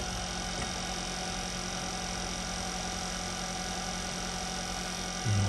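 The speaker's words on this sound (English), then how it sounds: "Inverter 1 is now activated" An AW109 helicopter's inverter hums steadily while the aircraft sits on ground power, a constant electrical drone with a slight low thump near the end.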